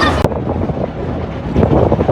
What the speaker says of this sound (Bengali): আমরা নৌকা ভ্রমণে বেরোইলাম